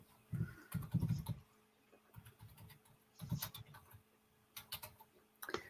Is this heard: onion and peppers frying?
no